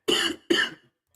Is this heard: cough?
yes